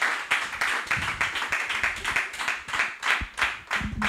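Rhythmic clapping from a church congregation applauding for Jesus Christ, a fairly quiet, even beat of hands repeating steadily throughout.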